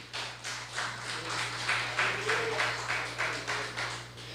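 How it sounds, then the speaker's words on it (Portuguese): Rhythmic clapping from a church congregation praising God during a service, steady beats filling the room at moderate level alongside a low sustained hum. "E as palmas louvam ao Senhor"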